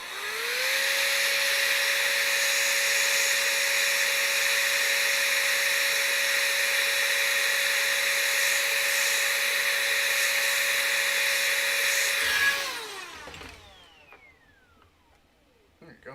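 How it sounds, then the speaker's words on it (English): A heat gun blows hot air with a loud, steady whine and rushing hiss that holds for about twelve seconds, then spins down and fades out. Close up, with no voices. "we'll use my fancy blower"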